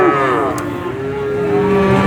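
A cow lows in a long, drawn-out moo at the Pasar Sapi Pon cattle market in Purwantoro, Wonogiri, Central Java. The call is loud and close, with no voices over it.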